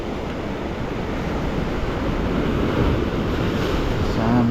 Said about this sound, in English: There where that wave's breaking.